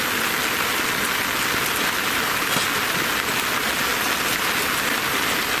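Rain falls on a reservoir in a dense, steady hiss of drops, constant and fairly loud from start to end with no voices.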